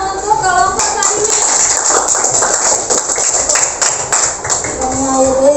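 A primary-school classroom bursts into applause for a student group, dense overlapping clapping mixed with children's chatter, steady and fairly loud for the whole stretch.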